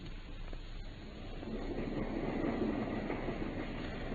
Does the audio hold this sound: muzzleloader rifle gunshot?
no